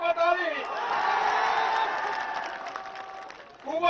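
A crowd at a political victory rally in Jasdan claps and cheers in a dense, sustained wash of applause that swells and fades, with a voice speaking over the start and end.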